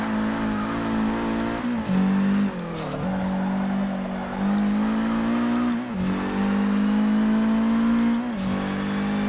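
A Ford GT race car in Forza Motorsport 6 accelerates hard, its engine droning loud and close as it climbs through the revs, with brief dips at each gear shift, repeated several times.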